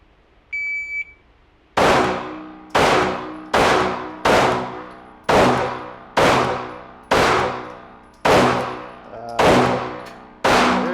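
Repeated loud handgun shots fired at B8 targets during a shooting drill, about nine sharp reports in a steady rhythm roughly a second apart, each ringing briefly, after a short electronic beep.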